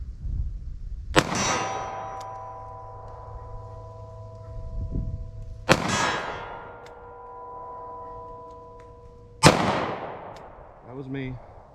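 Three loud, sharp .38 Special gunshots from a Taurus 605 revolver, spaced several seconds apart, each with a ringing metallic tail, and a short voice after the last shot.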